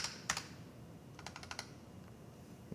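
Computer keyboard key presses during a Windows 11 walkthrough, a few sharp clicks early on followed by a quick cluster of taps, close and clear over faint room hiss with no talking.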